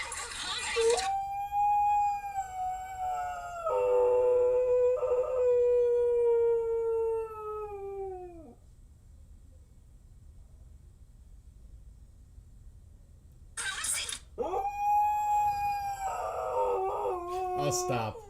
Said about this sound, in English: he would watch the TV and start howling